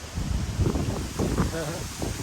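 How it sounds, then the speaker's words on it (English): Wind buffets the microphone with a constant low rumble and roar, with faint indistinct voices underneath. "It's really windy though, I gotta tell you."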